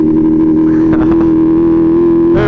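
A BMW M1000RR superbike running on race gas roars close by, a loud, steady engine drone with a rich buzzing tone that holds throughout and swells slightly at the very end.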